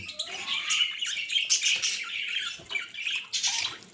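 Budgerigars chirp and squawk busily in a breeding cage, with bright overlapping warbles and sharp bursts close by throughout, broken by brief scratchy flutters; no speech.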